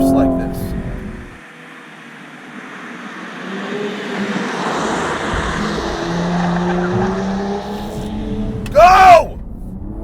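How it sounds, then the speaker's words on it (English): A 2020 Cadillac CT5-V sports sedan downshifts on a hill, its engine note rising and falling through a rev-matched blip, loud and close, with a sharp surge near the end and a voice talking over it. "Your bragging stinks if your car downshifts like this"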